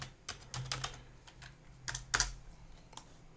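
Quiet, close keystrokes clatter on a computer keyboard in a short uneven burst, a few taps spaced out, then a quicker cluster, over a faint low hum.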